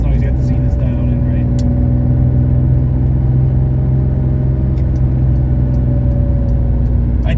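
A 1970 Porsche 911T with Zenith carburetors being road tested, its engine a loud, steady low drone with road rumble that holds close and constant throughout, while a person talks over it.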